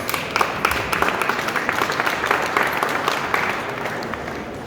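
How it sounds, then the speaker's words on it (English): A conference audience at the Ruhr Summit 2019 breaks into sustained applause after a presentation, many hands clapping steadily for several seconds at a fairly loud level. "Big applause."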